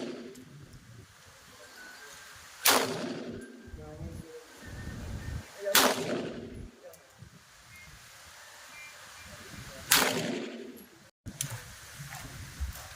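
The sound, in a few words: gunshots being fired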